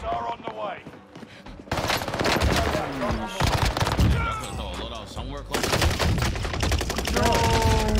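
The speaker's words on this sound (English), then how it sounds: "Why are they shooting my body like that, though?" Gunfire in Warzone on Rebirth Island: rapid automatic bursts and scattered shots, loud and close, broken by a brief lull, with game sounds around them.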